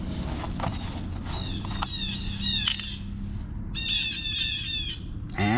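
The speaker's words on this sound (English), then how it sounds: "The birds had a little something to say too, huh?" Birds squawking outdoors, several harsh, repeated calls in bursts, fairly close and clear over a low steady background rumble.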